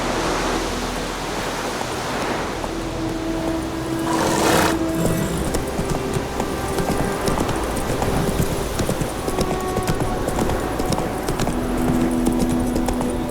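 Roach, the horse in the video game The Witcher 3, trots along with steady rhythmic hoofbeats. A continuous outdoor wash like rushing water or wind sits beneath the hooves, and a brief whinny-like swell comes early on. No one speaks.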